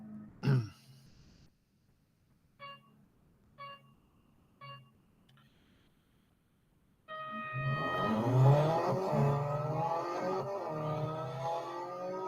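A race car engine in the mobile racing game Real Racing 3, with a few short electronic beeps over near silence, then a sudden sustained engine roar that climbs in pitch as the car accelerates.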